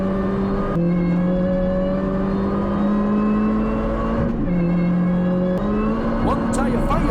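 In-car sound of a budget Mini Cooper race car lapping the Oulton Park circuit, its engine droning loudly and steadily through the gears with brief shifts and dips, and a voice talking over it.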